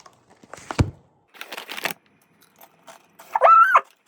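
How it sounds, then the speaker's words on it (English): Korean Doritos chips bitten and chewed, a few loud close crunches in short bursts with quiet gaps between, ending in a brief higher-pitched sound. "This is me trying Korean Doritos for the first time."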